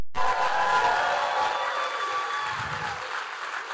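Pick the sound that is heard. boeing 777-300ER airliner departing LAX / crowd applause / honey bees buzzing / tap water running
crowd applause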